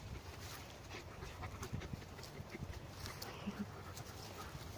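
Two dogs panting softly during a forest walk, a faint, steady breathy rhythm with a few small snuffles over quiet outdoor background.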